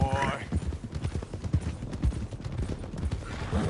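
Horse hooves clip-clop in a Western open-world video game, a run of soft rhythmic thuds mixed with game sounds and voices talking over them.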